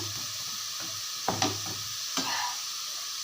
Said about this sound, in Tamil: இது வெங்காயம் நல்லா வதங்கிருச்சு